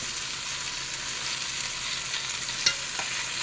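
Flour-dredged chicken pieces brown in a pan, giving a constant, close sizzle and crackle with one brief metallic tap near the end.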